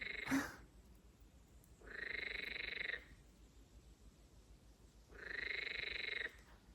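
Male frogs' mating call: a frog gives two long, steady buzzing croaks a few seconds apart, close and clear against quiet background hiss.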